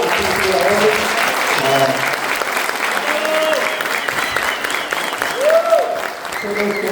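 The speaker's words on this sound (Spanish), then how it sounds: "Démosle un gran aplauso a los ciudadanos." Audience applause at a rock culture talk held in a venue, steady clapping throughout with some voices and whoops mixed in over the crowd.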